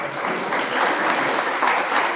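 Audience at an Islamic quiz competition in Kolar applauds loudly, a short, continuous wash of clapping with no pauses.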